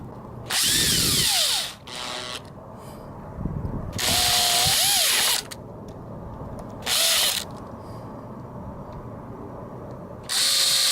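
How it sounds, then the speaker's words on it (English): A power tool drives in and tightens the four bolts on a scooter carburetor cover in several separate whirring bursts with rising and falling pitch, close and loud, with quiet gaps between the bursts. "Reinsert the 4 bolts and tighten them incrementally."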